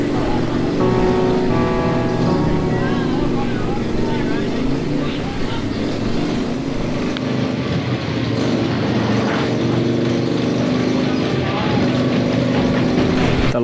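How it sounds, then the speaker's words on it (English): Trials motorcycles rev and idle steadily during a display at a Harley-Davidson anniversary gathering, a continuous engine drone with a voice talking over it. "Some trials bikes showing their skills."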